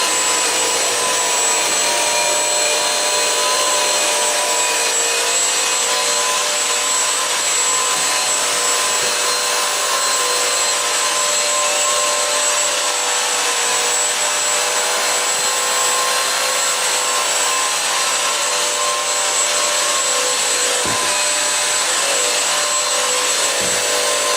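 Bissell Crosswave multi-surface wet cleaner running over a floor with spilled food and orange juice, a loud, steady motor whine and airy suction hiss that holds unbroken for the whole stretch, close by and alone.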